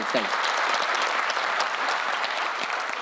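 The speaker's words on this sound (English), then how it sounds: "That was the most reluctant clap I've ever heard in my life" Scattered audience clapping at a stand-up comedy show, a sparse and reluctant burst of applause that fills the room steadily for about three seconds without any talk over it.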